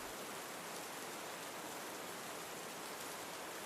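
Rain falls in a steady, soft hiss of dense pattering, even and unbroken, faint and continuous with no voices.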